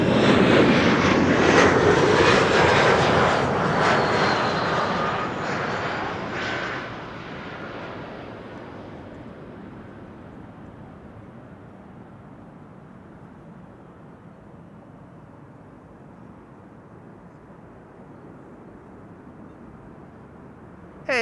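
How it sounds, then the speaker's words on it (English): KLM Embraer 175 jet arriving at Amsterdam Schiphol, a loud engine roar up close at first that steadily fades away into faint distant rumble over about ten seconds. "Embraer 175 arriving from Nuremberg"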